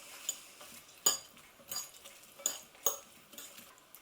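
A spoon stirs a roughly mashed vegan burger mix with chopped red onions in a bowl, giving soft scraping with a few sharp clinks against the dish, fairly quiet and unhurried.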